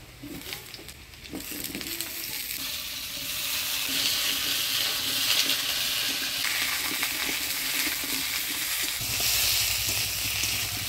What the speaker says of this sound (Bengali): আলু ফুলকপিটা ফোড়নের তেলে একটু ভাজা ভাজা করে নিলাম